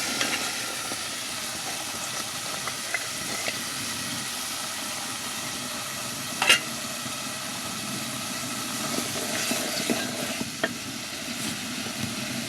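A steady low sizzle and hiss comes from a pan as vegetable curry with potato, radish, greens and dried fish is poured in and stirred, with a few sharp clinks of a utensil.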